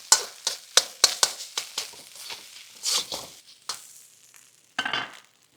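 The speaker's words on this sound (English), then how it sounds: "The wok is actually getting really, really hot because we're able to, crank the power into the system. You're seeing the rice getting nice and crispy now." Rice frying until crispy in a very hot Impulse wok on a high-power induction ring, crackling sizzle broken by quick repeated scraping and tossing strokes, close and fairly loud.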